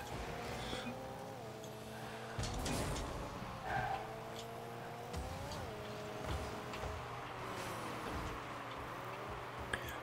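A car engine in Rocket League whines and revs, its pitch rising and falling repeatedly over a steady low hum, with occasional skidding bursts.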